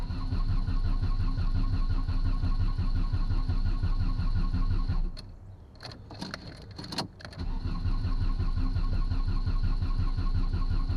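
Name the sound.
old VW engine cranking over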